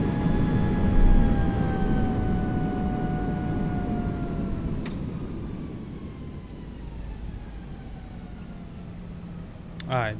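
Loud, steady roar of an IAE jet engine on an airliner at run-up, heard from the cockpit in a flight simulator sound pack, with slowly falling whining tones over a broad rumble and a brief click near the end.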